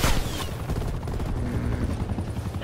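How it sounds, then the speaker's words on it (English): An attack helicopter in the Call of Duty Cold War beta, its steady rotor rumble running through a busy game mix, with a sharp burst of gunfire or impact near the start. "Is that another attack helicopter?"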